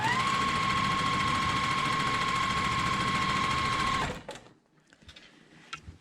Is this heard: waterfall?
no